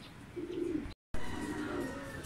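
Racing pigeons coo softly in low, rolling murmurs against a faint outdoor background, with a brief dropout of sound partway through.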